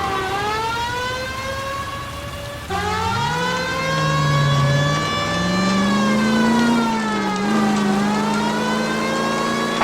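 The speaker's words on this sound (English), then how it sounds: "That's Kelso's car." In the L.A. Noire video game, a car drives and accelerates while a wailing police siren rises and falls across it. The engine revs climb and shift mid-pursuit, both sounds loud and close, with no talking.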